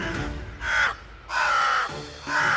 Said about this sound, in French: les oiseaux devinrent vraiment plus pressants et se mirent à poursuivre Héraclès comme une proie.